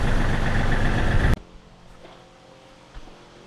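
A machine with hydraulic cylinders, a dual-cylinder fault under repair, cranks and its engine runs: a loud, steady engine roar for over a second cuts off abruptly, leaving a low idle-like hum with faint clanks.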